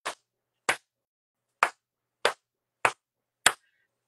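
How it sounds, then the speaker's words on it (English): Six sharp, isolated hand claps, made with the hands raised above the head during a prayer and deliverance service, spaced unevenly with silence in between, crisp and close. "Clap your hands above your head 7 times."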